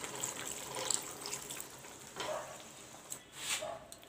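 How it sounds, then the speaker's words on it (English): A small splash of water poured into the aloo dum pan brings a brief watery gush and hiss over faint sizzling, close and fairly quiet, with a couple of stirring scrapes. "Put some water, very less water I will put."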